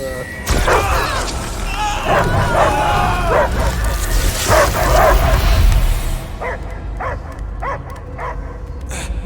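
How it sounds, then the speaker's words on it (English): Dog barks and yips sound amid busy video game effects and voices in Marvel's Guardians of the Galaxy, followed by several clearer, evenly spaced barks near the end. "I hear only barking."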